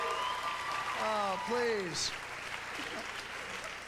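Applause from a stand-up comedy audience at a comedian's HBO show, a steady wash of clapping running under the comedian's spoken lines and continuing after he stops.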